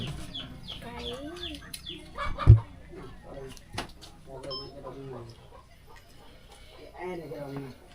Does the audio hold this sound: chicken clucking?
yes